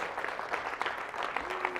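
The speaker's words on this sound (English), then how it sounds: "Let's keep that round of applause going for Sully" Audience at a comedy gig applauds steadily for a performer, with a brief rising whistle near the end and some crowd noise mixed in.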